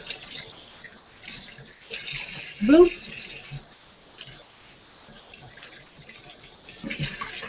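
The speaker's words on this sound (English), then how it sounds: "Again with the cold water. I wash cold water this chicken off like this." Cold tap water runs steadily over raw chicken in a kitchen sink, a soft continuous wash under a person talking, with one brief louder gurgle midway.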